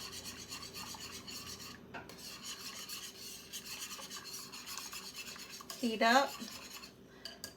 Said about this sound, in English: So you do want to stir it often.